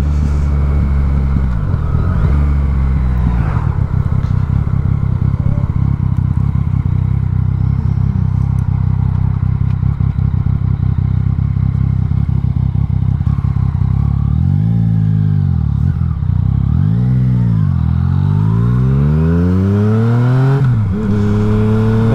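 A Yamaha MT-09 motorcycle engine heard while riding, loud and close, a steady drone that rises and falls through several revving sweeps toward the end, with wind rush underneath.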